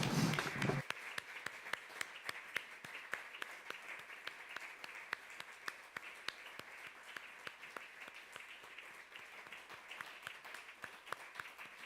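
An award ceremony audience gives a sustained round of applause in memory of someone, with dense, even clapping that continues alone for about twelve seconds after a short spoken lead-in.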